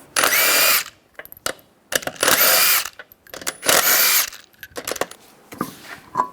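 Impact tool whirring in repeated bursts as lug nuts come off a 2004-2009 Toyota Prius front wheel with a 21mm socket, three loud close runs separated by short clicks and clanks, no talk.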